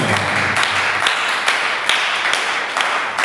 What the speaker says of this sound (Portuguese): Aplauda para o Senhor.